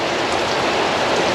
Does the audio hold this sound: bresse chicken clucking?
no